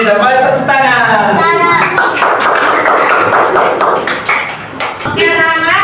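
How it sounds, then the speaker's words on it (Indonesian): A class of children clapping their hands together in a classroom, with a rhythmic burst of patterned clapping in the middle that is framed by spoken and sung voices at the start and end. "kita balik tepuk tangan"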